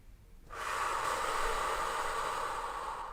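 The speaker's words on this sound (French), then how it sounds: "Quand on respire avec le ventre" A single long, deep inhalation through the nose for belly breathing, a close, steady airy rush that starts abruptly and is sustained without any talking.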